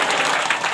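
A church congregation gives a short burst of applause, a steady close clatter of clapping hands lasting under a second.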